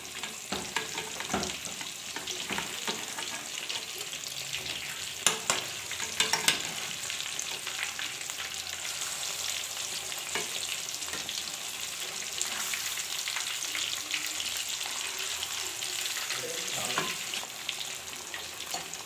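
Fish frying over low heat in a pan gives a continuous, even sizzle and crackle with a few small spatters and taps, steady and close throughout.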